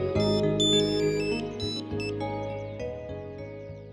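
A melodic ringtone plays steadily and fairly softly while a telephone call is placed to Mr. Agarwal, with no voices over it.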